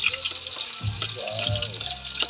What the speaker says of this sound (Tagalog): gisahin yung bawang